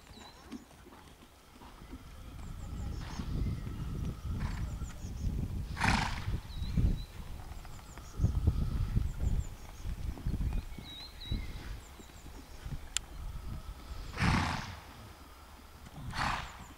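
A horse in dressage training at a stable moves with soft rhythmic hoofbeats and snorting breaths, heard moderately close over steady background noise.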